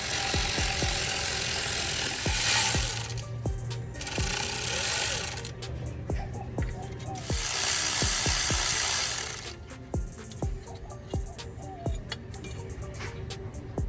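Hand ratchet working a bolt loose on an alternator mount of a Toyota 22R engine, sharp repeated clicks in bursts alongside bursts of broadband hiss, close and fairly loud with no talk.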